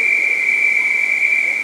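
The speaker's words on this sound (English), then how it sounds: "And that is the whistle for Elizabeth Savage, representing King's Cormorant." A sharp, steady whistle blast at a Masters long course swimming championship pool holds one continuous high tone for nearly two seconds, loud and close, with faint pool-hall murmur beneath.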